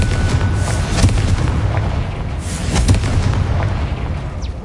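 Spell explosion in the Hogwarts Legacy video game, a loud booming blast with rumbling bursts and crackle in a dense, continuous game soundscape, without speech.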